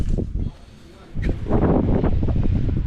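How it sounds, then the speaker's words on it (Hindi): Strong mountain wind gusting at Zero Point near Lachung in snowy, icy high terrain, a loud steady buffeting roar on the microphone with a brief lull before it builds and holds. "एकदम खूब तेज़ हवा चल रही है।"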